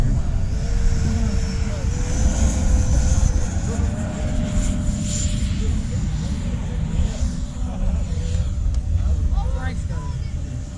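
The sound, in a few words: Freewing Yak-130 RC model jet taking off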